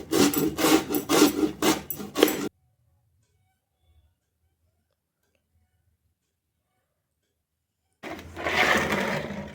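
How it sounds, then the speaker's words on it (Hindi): Peeled potatoes being grated by hand on a kitchen grater: rhythmic, scratchy rasping strokes in quick succession, then a long silence before another burst of coarse grating. "इसको कद्दूकस कर लेंगे"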